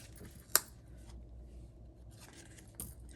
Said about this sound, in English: Then we're going to take our scissors